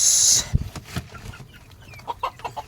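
Brahma chickens and chicks cluck in short, close calls at an outdoor poultry yard, with a soft scattered sequence of clucks after a brief burst of noise at the start.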